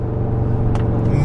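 An Audi RS6 with an Armytrix stage 2 exhaust, tuned to about 700 bhp, rumbles loudly and steadily from inside the cabin, with a brief crackling burst from the exhaust midway.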